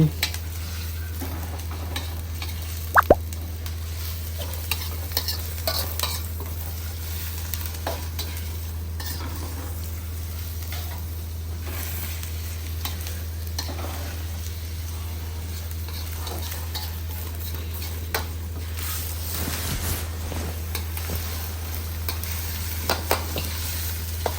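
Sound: pork being stir-fried with curry paste in an iron wok

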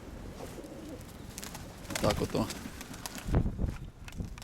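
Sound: pigeons cooing

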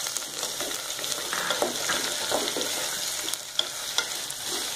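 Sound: sautéing onions and green chillies in a pan for bread toast

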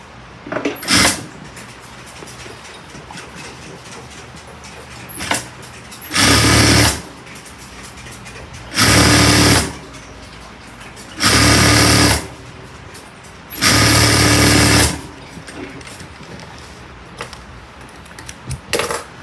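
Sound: sewing machine stitching suit jacket lining

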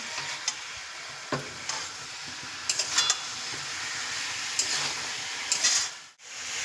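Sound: chicken pieces frying and stirred in a pan

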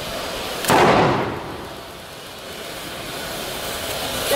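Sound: pyrotechnic flash and bang

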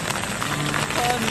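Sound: rain falling

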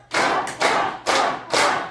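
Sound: group clapping hands while laughing

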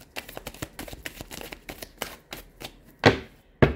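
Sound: tarot cards being shuffled

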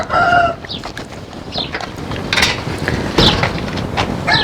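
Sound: chickens and roosters in a coop

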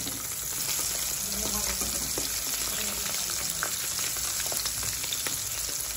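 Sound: raw banana fritters frying in oil

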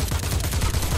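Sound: gunshot in The Persistence video game

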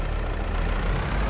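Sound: truck engine in video game

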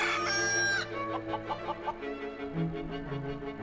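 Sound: rooster crowing and clucking

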